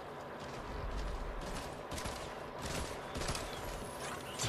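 Gunfire in the video game Fortnite, including dual pistol shots, comes as a faint, busy spread of overlapping shots and crackles within a dense mix of game sound, with no clear single bursts.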